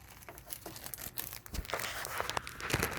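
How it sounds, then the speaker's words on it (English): Small plastic bags crinkle and rustle as parts are unpacked for a food-grade 5-gallon bucket water filter, with irregular crackling bursts that are close and fairly soft, and no talking. "All these little plastic bags."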